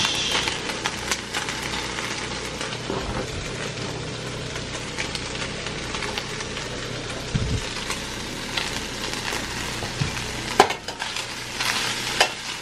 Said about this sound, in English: we're gonna add the sausage